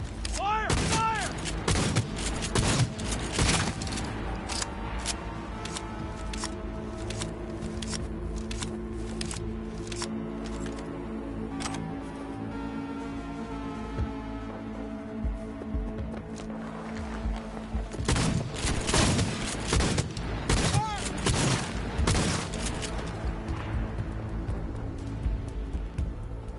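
Squad gunfire in the video game Cyberpunk 2077, dense bursts of shots and booms crowding the opening seconds, easing off midway, then surging again near the end, with voices under the shooting.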